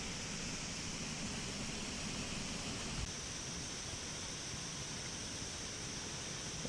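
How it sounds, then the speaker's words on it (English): The Triberg waterfall in the Black Forest roars as a constant broadband rush of falling water in the rain, steady and enveloping with no voices. "it was raining, but still the waterfall looked majestic"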